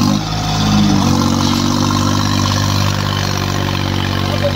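A 50-horsepower New Holland 3630 Super tractor engine runs steadily at a low, even idle, loud and close, with no voices over it.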